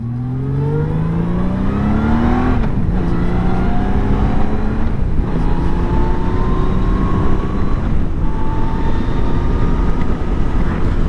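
Honda GL1500 Goldwing motorcycle with freshly rebuilt carburetors running through the gears on a road ride, engine pitch climbing then dropping at each of several shifts, loud and close with wind rush.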